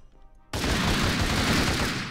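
Loud, sustained burst of gunfire in the Minecraft video game, starting abruptly after a quiet moment and continuing as dense rapid shots with booming low end.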